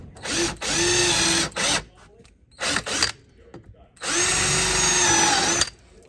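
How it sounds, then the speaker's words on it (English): A power drill with a step bit whines loudly in three bursts cutting a hole in a Harley-Davidson saddlebag lid, stopping and restarting, with a steady high mechanical tone while cutting. "So we're using a step drill bit."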